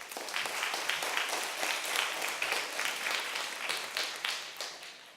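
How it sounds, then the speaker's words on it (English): Audience applause for club members, performers and parents at a Key Club Vancouver Westside event: brisk, even clapping from a sizable crowd, continuous for about five seconds. "Please give them a round of applause."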